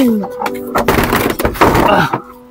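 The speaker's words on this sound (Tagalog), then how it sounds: "Ako, sira ko ata yung pinto." A bathroom door in a comedy skit is forced and broken, with heavy thuds and a cracking burst in the middle, mixed with voices.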